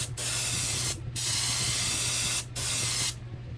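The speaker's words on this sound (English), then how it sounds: "I'm actually gonna spray some black onto the top to get it a little bit more darker coat up here." Airbrush spraying black paint onto a trout fishing lure, several hissing bursts of spray separated by short pauses, close and steady with a low hum underneath.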